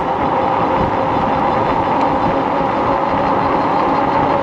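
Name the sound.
Nakto Folding OX e-bike 500 watt motor climbing hill on throttle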